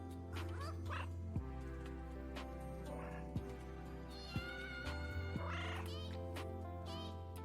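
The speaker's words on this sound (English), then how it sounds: "Is that the cat purring?" A cat makes soft repeated chirping trills and meow-like calls over a steady low rumble, fairly faint, with no speech over it.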